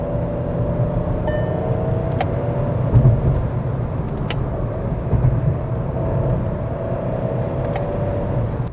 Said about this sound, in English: This is a surprising paddle shift experience because the shifts are very fast even on this torque converter unit